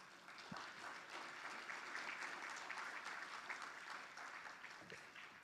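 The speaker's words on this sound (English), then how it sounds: "Let's give them a round of applause." Audience applause at the DSFN Conference 2025 fills a large room, steady and sustained for several seconds, with dense clapping from many hands and no speech over it.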